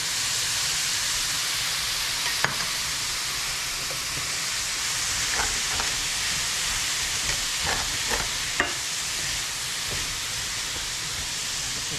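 Carrot and celery mixture sautés in a pan with a constant bright sizzle, broken by a few soft scrapes and taps of a spoon stirring, close and steady.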